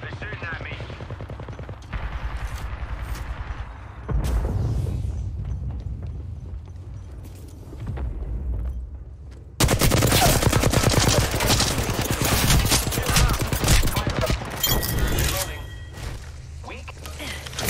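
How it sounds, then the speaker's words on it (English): Enemy gunfire in Apex Legends comes as repeated rapid bursts and clattering volleys, growing louder and denser midway and continuing to the end, with in-game voice lines spoken over parts of it. "They're shooting at me."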